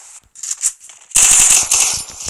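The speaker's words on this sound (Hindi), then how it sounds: "शॉटगन है।" A shotgun fires in a video game, starting with a few scattered, softer shots and then a rapid run of loud, sharp blasts close up. No voices are heard.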